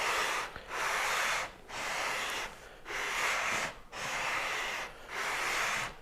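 A guitar fretboard is sanded by hand with 220 grit sandpaper in five long, even rasping strokes. Each stroke is separated by a brief pause, and the sound is close and alone.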